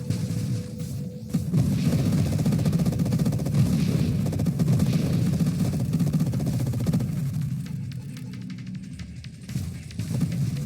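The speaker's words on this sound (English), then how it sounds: "Firing so many weapons at us." Enemy weapons fire nonstop in the space shooter Nova Drift, a dense, loud barrage of rapid shots and blasts that runs for nearly the whole stretch and thins briefly near the end.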